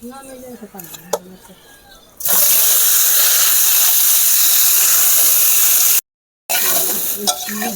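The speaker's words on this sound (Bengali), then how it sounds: "আলুটা এবারে আমি ভেজে নিচ্ছি" Loud, dense hissing sizzle of potatoes dropped into hot oil in a wok, starting abruptly after some quiet talk and continuing steadily with a brief cut.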